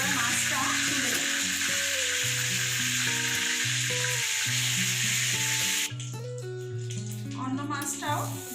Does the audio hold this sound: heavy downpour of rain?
no